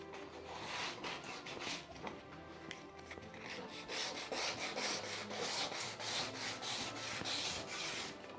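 Sanding in the Minecraft modpack MC Eternal 2 comes as a run of quick, rhythmic abrasive strokes, steady and fairly close. It repeats without pause and no one speaks.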